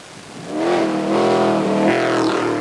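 The Rothmans Bronco race car's engine revs on a circuit, loud and close, rising in pitch through a sustained climb, easing briefly and then pulling hard again, with no voices.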